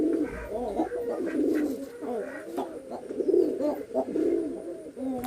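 Pigeons cooing up close, repeated soft throaty coos in an uneven rhythm, several calls overlapping across the few seconds with faint background noise.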